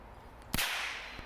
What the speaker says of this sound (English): here goes the Monster Poppet